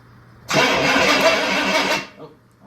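A small engine fires up on its first start, bursting into a loud, rough two-second run before cutting out abruptly, with quiet bench noise on either side.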